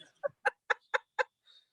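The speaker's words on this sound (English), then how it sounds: "Do you hear the bird in the background?" A bird nearby clucks like a chicken: five sharp, evenly spaced clucks close together, then a softer trailing call, with quiet in between.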